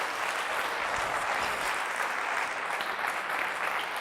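Loud, sustained applause fills a church congregation, a dense steady wash of many hands clapping at once with no pauses, close and enveloping.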